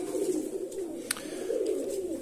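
Pigeons kept indoors in a room, males and females mixed together, coo in low, soft, continuous rolling murmurs, with a brief sharp chirp standing out midway.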